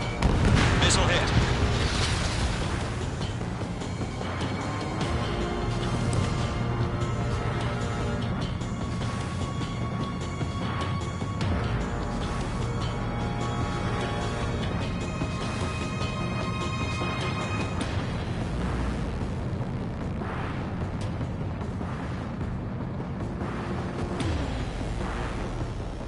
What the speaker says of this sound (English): Evading enemy missile. Missile hit.